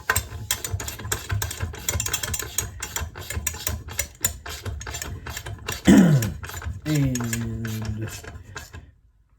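A ratchet tightens valve cover bolts on a car engine, a dense run of quick close clicks in bursts, with a brief spoken word and a couple of tonal squeaks near the end.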